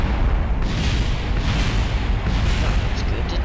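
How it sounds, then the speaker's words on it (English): A rocket explodes in the video game Kerbal Space Program, update 0.25. A dense, loud, continuous roar of blast and rumble fills the whole stretch, with a few swelling surges and no clear pauses. "Boom! New explosion graphics"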